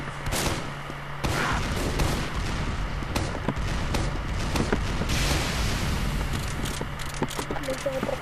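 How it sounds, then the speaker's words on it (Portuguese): Demoman's bombs exploding in Team Fortress 2, with repeated heavy blasts and gunfire-like bursts over dense, continuous battle noise throughout. "Ele tá com as bombas, muito legal esse Demoman."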